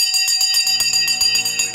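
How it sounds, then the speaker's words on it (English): A bell rings for the market open during live stock market coverage. It gives a loud, bright, rapid series of metallic strikes with sustained high overtones, close and continuous throughout with no talking. "The bell has gone."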